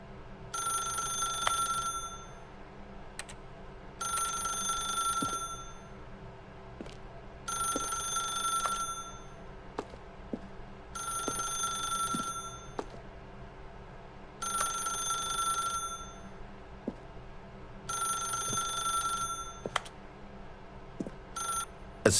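A telephone rings in The Stanley Parable video game, seven regular bursts of bright electronic trilling separated by short pauses, loud and clear over a low steady hum, with no voices.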